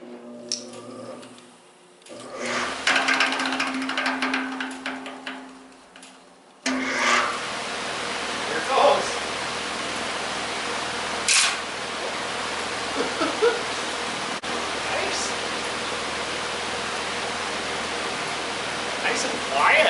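An old restored electric fan runs at full speed with a steady broadband whooshing rush, close and continuous, with a few faint knocks and rattles along the way.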